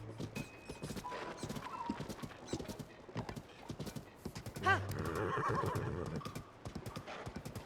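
Horse hooves clip-clop steadily throughout a ride in Zelda: Tears of the Kingdom, and a loud whinny rises out of the galloping just past the midpoint before the hoofbeats carry on.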